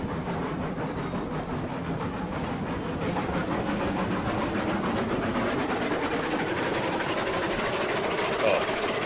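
A steam locomotive in RailRoads Online, with a continuous loud rumble and rapid rhythmic chuffing clatter that sounds rough and strained, alongside a faint mechanical whine.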